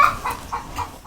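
Purebred roosters and other poultry in a farm enclosure give a series of short, close clucks about every quarter second, with no talk.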